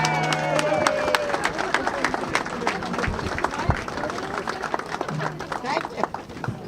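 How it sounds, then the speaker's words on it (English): A crowd at an outdoor political rally for a former congressman in Staten Island, New York, claps and cheers in a scattered, continuous patter. Voices and amplified speech carry over the applause. "Ladies and gentlemen, a round of applause, Chris and Cheyenne."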